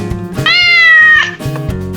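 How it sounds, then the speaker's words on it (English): A cat gives one loud, drawn-out meow, close and rising then falling, with soft background music around it. "Oh, what a cute cat!"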